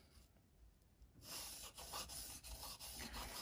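A Mora knife blade scrapes back and forth on a 6000 grit sharpening stone, soft rhythmic rubbing strokes starting after a quiet moment, close up and faint.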